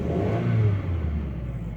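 A 1998 VW Beetle engine revs up once and settles back, a close throaty rise in pitch that falls away, heard alone without any voices.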